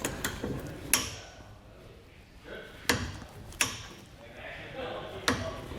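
Trailer hitch bolt being tightened with a ratchet on a 2022 Ram 1500 with a Curt hitch receiver: a few sharp metallic clicks and clanks at irregular intervals over quiet background rustle.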